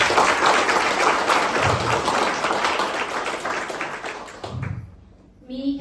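A crowd at an awards ceremony breaks into sustained applause, dense clapping that fades out near the end before a brief new sound begins.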